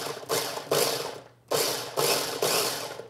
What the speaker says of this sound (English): Pulse the garlic